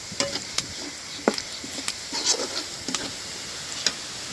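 Leafy greens frying in a kadai, with a steady hiss of sizzling oil broken by sharp scattered ticks and scrapes of stirring, close and fairly loud.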